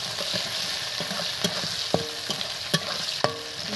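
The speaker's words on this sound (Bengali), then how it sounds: "পেঁয়াজ দিয়ে দিচ্ছি" Onions frying in a pan for chicken curry, with a steady broad sizzle and several sharp clicks of a spoon scraping and stirring against the pan, close and fairly loud, no voices.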